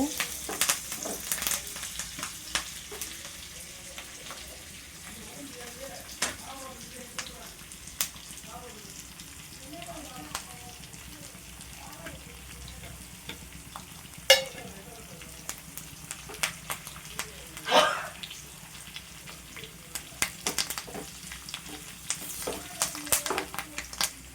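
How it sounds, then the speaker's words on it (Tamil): Pepper, cumin and curry leaves for pongal sizzle and crackle in a hot pan, a continuous close frying hiss broken by scattered sharp pops and the occasional scrape of stirring. "சேர்த்துட்டு நம்ம நல்லா வதக்கி விட்டுருலாங்க"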